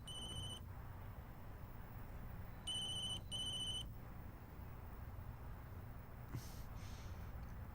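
A telephone ringtone trills in three bursts, one short burst at the start and two longer ones later, over a steady room hum. The call goes unanswered and no one speaks.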